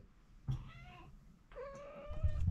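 A house cat that has just knocked over a camera gives two clear meows, one short and one longer and drawn out, with low thumping handling noise near the end and no talk.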